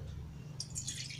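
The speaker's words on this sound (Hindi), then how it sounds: "पूरा पानी डाल देंगे" Cold water is poured into a bowl for an ice facial, giving a brief, bright splash that starts halfway through a short, faint stretch of low hum.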